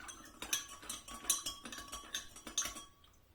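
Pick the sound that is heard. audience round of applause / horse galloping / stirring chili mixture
stirring chili mixture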